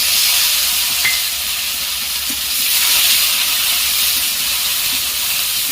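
Chopped onion and tomato hit hot oil in a pan for a jackfruit and prawn curry, giving a loud, steady hiss and sizzle with faint stirring scrapes, close up and with no talking.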